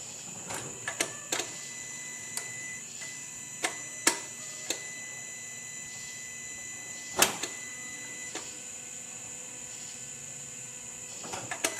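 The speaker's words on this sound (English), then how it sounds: "I'm going to cycle the fuel pump" Car fuel pump being cycled in a parked car, heard as a steady faint electric whine with a scatter of sharp, quiet ticks and clicks at irregular intervals, no talking.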